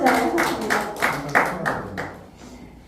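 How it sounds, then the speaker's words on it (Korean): Audience clapping after a poem recital in a songwriting class, a burst of hand claps with distinct strikes that thins out and fades toward the end; voices are also present. "박수 한번 주세요"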